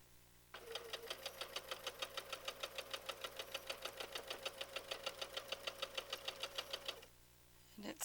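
Sewing machine stitching two pieces of fabric at once, running for about six seconds as a steady, even train of quick mechanical thumps with a faint whir, starting and stopping abruptly.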